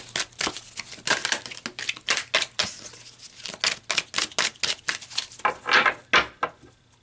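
Tarot cards being shuffled and pulled from the deck, a close run of quick papery flicks and riffles in uneven bursts, loud and crisp with no talking over them.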